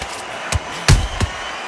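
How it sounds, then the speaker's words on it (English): Boxing punches landing in the Undisputed video game, a few sharp thuds spaced apart over a steady arena crowd murmur, with no one speaking. "They exchange punches."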